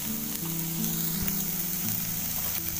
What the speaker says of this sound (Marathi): इथे भेंडी बघा तेल टाकलंय, ते भेंडी पहिला फ्राय करून घ्यायची